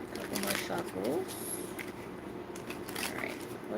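Tarot cards being shuffled by hand, with quick riffling and soft flapping bursts repeating over a few seconds, fairly quiet, with faint room noise.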